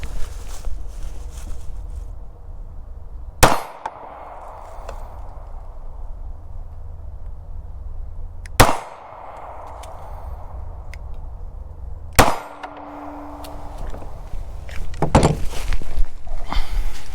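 Three gunshots from a gun fitted with a Holosun 507C red dot sight: sharp, loud single reports spaced several seconds apart over a low outdoor background rumble, with another crack near the end.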